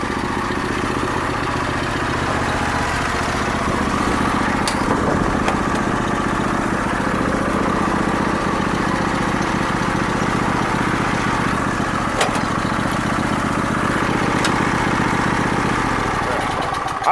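A Craftsman riding lawn mower's engine runs steadily close by, a continuous mid-pitched rumble with a slight rise in revs and a few faint clicks, and a voice speaks briefly over it.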